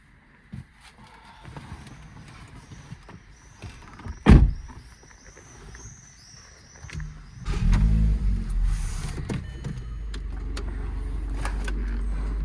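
A car sets off: a sharp thump midway, then the engine rises into a steady, low rumble as it drives away, with light faint chatter in the background.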